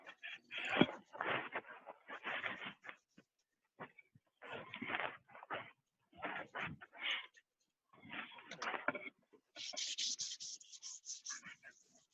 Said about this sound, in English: And you could smudge it with paper towel, napkin, Kleenex, some toilet paper, whatever you've got on hand.